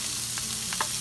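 Vegetables fry in vegetable oil in a preheated pan, a constant sizzle with a few soft stirring scrapes over about a second.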